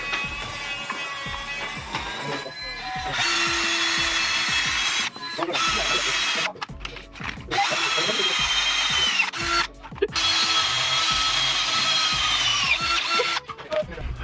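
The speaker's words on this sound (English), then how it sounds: "So let's start drilling." A power drill bores holes for homemade bucket seat brackets, whining in several long, loud bursts separated by brief pauses and clicks.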